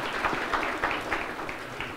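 An audience at a Cowboy Hall of Fame event in North Dakota gives steady applause, a soft, continuous patter of many hands at moderate distance with no voices over it.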